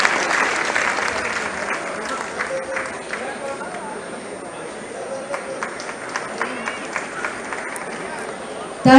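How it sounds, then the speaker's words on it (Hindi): An audience applauds to welcome Pandit Birju Maharaj at Lucknow Mahotsav 2018: a steady, dense wash of many hands clapping fills the hall, holding fairly even throughout, with faint crowd murmur beneath. "मैं चाहूंगी जोरदार तालियों से आप उनका भी स्वागत करें अभिनंदन करें।"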